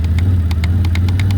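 A 2021 Can-Am Outlander 850 XT ATV engine runs at full throttle, a loud steady low drone with a row of sharp rhythmic ticks over it, close and without talk.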